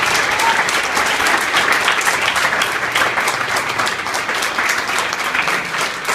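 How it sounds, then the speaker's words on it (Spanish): A church congregation bursting into loud, sustained applause for Jesus during a Spanish-language sermon, dense clapping from many people in a hall, close and even throughout. "Un aplauso fuerte para el Señor Jesús"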